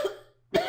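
A single short cough from a person, near and clear, with a brief pause before a second harsher burst of coughing.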